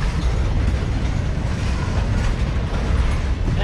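A Norfolk Southern train rumbling past a rail yard in Columbus, Georgia, a dense continuous roar of wheels and rails with a faint clatter, steady throughout.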